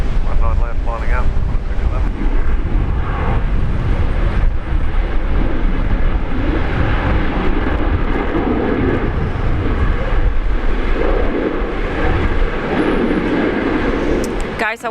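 A China Southern Airbus A350 airliner landing at Brisbane Airport, heard as a loud, steady roar of engines and rushing wind that fills the whole stretch without letup, with faint talk beneath it.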